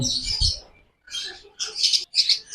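Lovebirds in a seller's stock chirp close by in short, shrill bursts of tweets and squawks separated by brief pauses.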